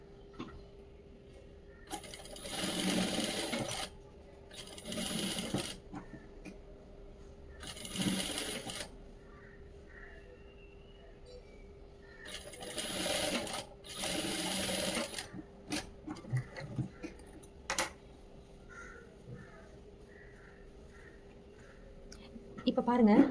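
Sewing machine stitching a half-inch shoulder seam with right sides of the fabric placed together, running in several distinct bursts separated by pauses, with a faint steady hum underneath.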